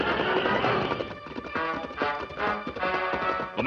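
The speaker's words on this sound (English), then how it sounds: "the gang leader caught the eye of the Lone Ranger, who immediately followed on the great horse Silver." Horse hoofbeats of the Lone Ranger's great horse Silver pound in a fast galloping rhythm in an old Western radio drama, loud and steady with a rushing, busy backdrop.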